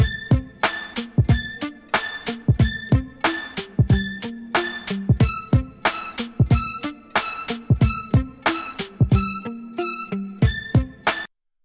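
Hip hop beat built in Magix Music Maker, its soft strings part pitch-shifted on a second pass, with steady punchy hits in an even loop and bright tonal layers, ending abruptly.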